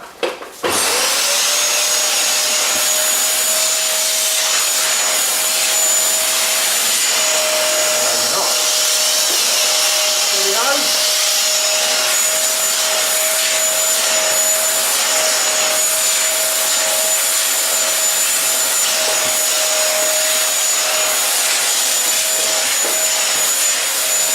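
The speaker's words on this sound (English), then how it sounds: "Now we're going to see how we go vacuuming some curtains with it." A vacuum cleaner drones loudly and steadily throughout while vacuuming curtains, a constant high whine with occasional shifts as it moves over fabric.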